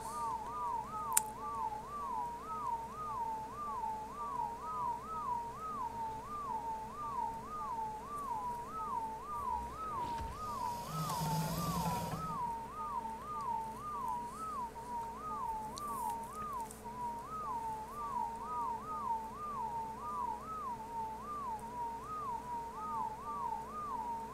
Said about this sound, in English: Lots of whistling.